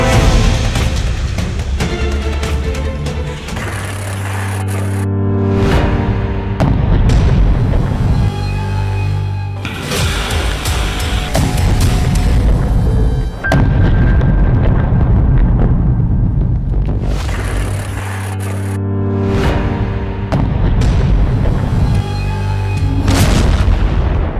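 Repeated deep booming blasts with heavy low rumble, several explosions over a sustained roaring background, loud and close, no speech.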